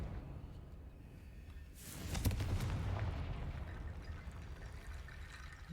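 A Confringo explosive spell blast in the Hogwarts Legacy video game, a single rushing burst that erupts about two seconds in and trails off into a faint rumble, heard alone and fairly quiet.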